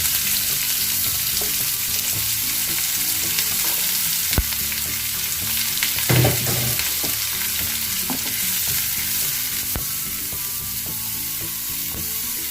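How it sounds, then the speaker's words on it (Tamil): Chopped onions sizzle steadily in a hot pan for chicken chukka, a continuous crackling fry with occasional stirring scrapes and clicks, close up and with no talking. "இது நல்லா கோல்டன் ப்ரௌன் ஆகிற வரையும் நல்லா ஃப்ரை பண்ணி கொடுங்க."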